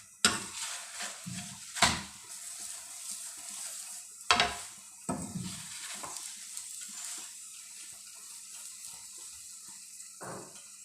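Mooli paratha cooking in a pan over medium heat, with a soft steady sizzle punctuated by several sharp scraping and pressing bursts near the start and middle, no one talking.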